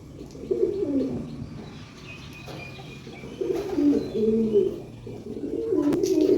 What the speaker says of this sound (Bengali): আরেকটা পায়রা এসছে